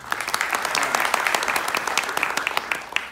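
Dense, loud clapping from an audience at a political rally, steady and sustained throughout with sharp individual claps peppering the wash of applause.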